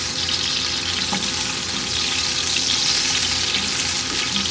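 Beef pulao ingredients with chopped onion being stirred and fried in a pot, a steady loud sizzle with scraping stirs and a brief clink, no voices.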